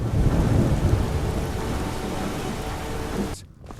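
A heavy thunderstorm in the video game Skyrim rumbles with steady pouring rain, loud and continuous, cutting off abruptly near the end.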